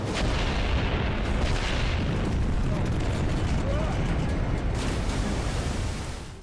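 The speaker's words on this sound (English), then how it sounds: "the nuclear weapons that would have detonated underwater next to the Mega Shark have now been detonated in the upper atmosphere" Nuclear weapons detonate in the upper atmosphere in the 2015 film Mega Shark vs Kolossus, a continuous loud rumbling roar of explosion effects that holds steady throughout and tapers off at the end.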